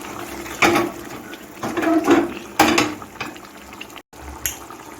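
Fried fenugreek leaves tipped into a pan for methi malai paneer, giving a few sizzling, scraping bursts of frying and stirring at close range, with no one talking.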